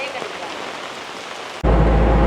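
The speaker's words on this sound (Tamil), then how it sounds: "அந்த புயல் நேரம் மழை அடித்த மாதிரி திருப்ப மழை அடிக்குது." Rain falls on the road from Puthukkudiyiruppu to Mullaitivu, a steady patter that suddenly swells into a loud, close, heavy downpour roar.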